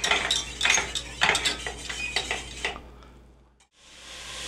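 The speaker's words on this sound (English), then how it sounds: "Now I'm trying to do a little caramelizing here." Onions and chilies caramelizing in a pan for a Texas chicken casserole, heard as a close, uneven run of stirring scrapes and utensil clinks over a light sizzle. The activity stops abruptly near the end, leaving a brief near-silence before a faint hiss returns.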